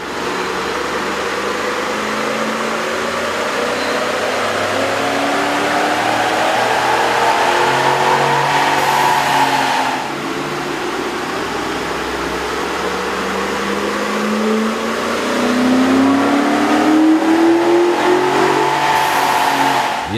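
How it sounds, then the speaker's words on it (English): A Ford F-150 with a 5.4-liter engine and a K&N cold air intake revs on a dyno, climbing repeatedly in pitch through long sustained pulls with a loud, steady drone, close and without voices. "we ran the vehicle on the dyno to test the sound comparison versus the stock intake"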